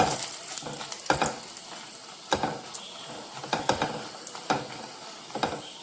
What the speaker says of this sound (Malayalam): ഇതേ എണ്ണയിലേക്ക് മുളക് ഇടാതെ ഒരു 10 പത്തലമുളകാണ് ഇടുന്നത് കേട്ടോ. അത് നമുക്കൊന്ന് ഫ്രൈ ചെയ്തെടുക്കാം